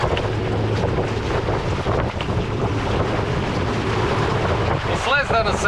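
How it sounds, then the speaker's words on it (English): A solar-powered boat runs on open water under heavy wind rush and splashing, with a steady churning drone as it moves from half to full throttle. "So we are at half throttle, and look at how much time it takes to go to full throttle."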